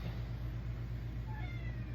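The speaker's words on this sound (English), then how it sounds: "That's my cat that you guys are hearing." A domestic house cat meows indoors, a fairly faint cry over a steady low background hum, with no talking.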